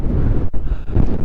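Strong gusty wind buffeting the microphone on a blustery walk beside the Mississippi River, a loud roaring rush that pulses with each gust and has no voices over it.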